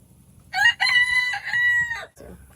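A free-range rooster crows nearby, one loud, drawn-out cock-a-doodle-doo with a short clucking note at the end, against a quiet background.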